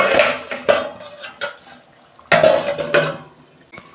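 Metal pot and lid clanking as a gile-mete curry is covered, giving a few separate sharp clinks and scrapes with short gaps between them, close and fairly loud, with no voices.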